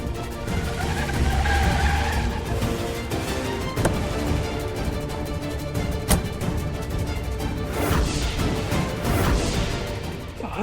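A car with a punctured tire slowing and pulling over to the roadside, heard as a sustained loud rumble of engine and rolling noise with scraping, skidding texture and a few sharp knocks, no talking.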